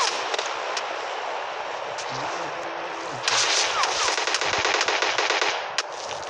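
Automatic weapons fire in a shooter video game rattles in rapid bursts, with sustained chatter growing louder and denser midway, sharp single cracks punctuating the stream.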